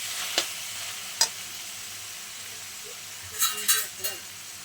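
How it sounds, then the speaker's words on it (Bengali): Chowmein vegetables with soy sauce and tomato sauce stirred in a wok, a soft background sizzle broken by a few sharp utensil scrapes and clinks, near and moderate. "সোয়া সস টমেটো সস দিয়ে এরপর একটু নাড়াচাড়া করে নিয়ে"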